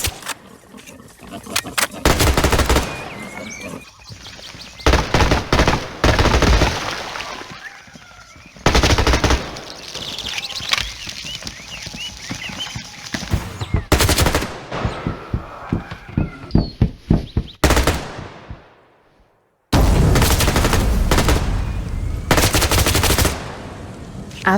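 Shooter video game gunfire: rapid automatic bursts and single shots crackle loudly in repeated clusters, separated by brief quieter gaps and one near-silent pause, with game effects mixed in.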